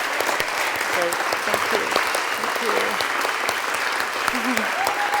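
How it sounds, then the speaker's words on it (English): Church congregation applauding the service team at a Sunday service, steady dense clapping throughout with a voice speaking over it. "Let's give our whole service team a big, big round of applause"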